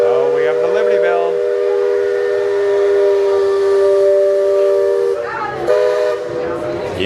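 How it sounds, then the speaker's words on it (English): Steam train whistle at Magic Kingdom, Walt Disney World, sounding a long sustained multi-tone blast with a brief bell-like break, loud and near amid park crowd noise. "You can hear the steam whistle followed by the brass bell."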